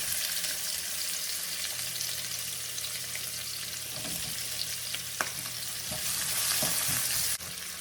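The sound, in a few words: onions frying in oil after fish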